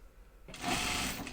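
A sewing machine hems a Tibetan chupa, starting abruptly after a brief quiet and running in a steady, close, fairly loud whir for under a second.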